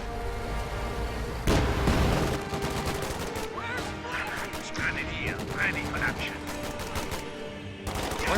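Video game battle with machine gun and rifle grenade fire: dense bursts of rapid gunshots and sharp impacts, a heavy blast near the start, with a voice talking over the combat.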